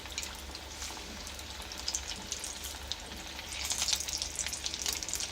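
Chicken pieces frying in a pan, a gentle continuous sizzle with fine crackling spatters that grow a little busier toward the end.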